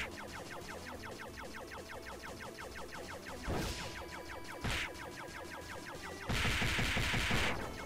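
During a boss fight in a video game, a kneeling character fires guns in a few loud, crackling bursts over a busy, rhythmic musical backdrop, with the last burst lasting longest.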